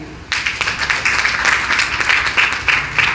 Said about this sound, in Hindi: एक शानदार ताली।